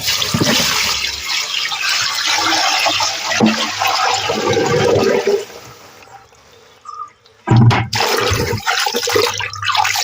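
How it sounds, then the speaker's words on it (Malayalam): Water pours and gushes steadily into a container of homemade organic slurry, a loud splashing flow at close range that drops away briefly, then returns with a few knocks and resumes pouring. "ഇനി ഇതിലേക്ക് വെള്ളം ഒഴിച്ച് കൊടുക്കാം കേട്ടോ."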